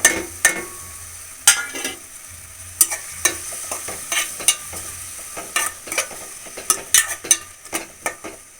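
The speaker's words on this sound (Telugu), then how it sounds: "ఉల్లిపాయ మాడకుండా ఈ విధంగా మధ్య మధ్యలో కలుపుతూ ఉండాలి" Onions, green chillies, cumin and garlic fry in a pan with steady sizzling, broken by repeated stirring scrapes and metallic clinks of a spoon against the pan, close and without talk.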